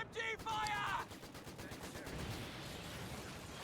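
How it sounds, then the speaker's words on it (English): Heavy machine gun fire in the strategy game Company of Heroes 2, a short burst of rapid shots that fades under ongoing battle noise. "HMG fire!"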